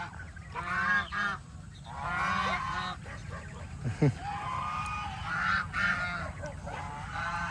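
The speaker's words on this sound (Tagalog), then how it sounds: "That one is goose." A goose on a farm gives repeated loud, nasal honks close by, mixed with other fowl calls, while a child and an adult talk in the background.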